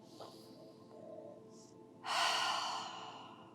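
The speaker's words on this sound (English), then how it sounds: "And taking a nice deep breath with me." One long, deep breath taken in a calm guided meditation, with a soft breathy rush that swells near the mic and then fades, heard alone without talking.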